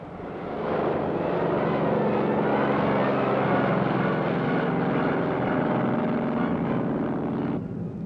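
An F6F propeller fighter plane drones loudly overhead, a steady rough roar that builds in over the first second and holds, then drops slightly near the end.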